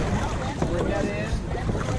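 A dragon boat reverses from a dock during a race, paddles splashing and churning the water amid wind noise, while people talk and call out close by.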